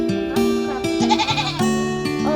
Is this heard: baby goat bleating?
yes